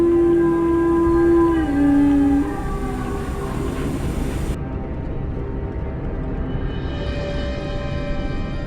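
A single long howl rises and holds, then drops in pitch and fades out, heard over a steady low rumbling background.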